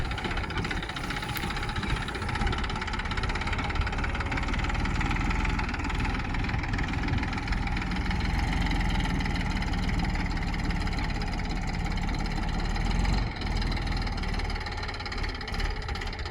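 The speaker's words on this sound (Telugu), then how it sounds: "స్లోగా ట్రాక్టర్ రోడ్డుపైకి పైకి ఎక్కిచ్చేసాను" A tractor engine runs at a low steady rumble while hauling bundles of grass slowly up onto a road in the evening, a continuous close drone with no talk.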